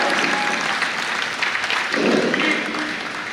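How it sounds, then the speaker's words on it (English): Applause from the audience at a youth basketball coaches clinic, a broad steady clapping with a faint voice or cheer surfacing briefly partway through. "I want everybody to give a loud applause right now for her."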